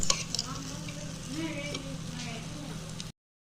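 Dry fruits pulao being stirred and fried in a pan, a steady close sizzle with soft scraping stirs running throughout for about three seconds, no one talking.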